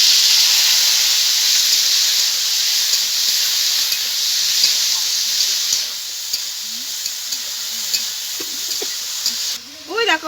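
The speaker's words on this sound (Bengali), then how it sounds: "এবার টমেটো কুচিটা দিয়ে দেবো" Chopped tomato hits hot oil seasoned with dried red chilli, bay leaf and whole garam masala for a Maharani cabbage dish, giving a loud, steady hiss and sizzle, with a voice and brief sounds near the end.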